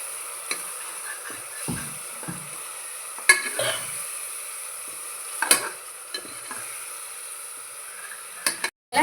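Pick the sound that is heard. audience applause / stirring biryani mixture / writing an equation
stirring biryani mixture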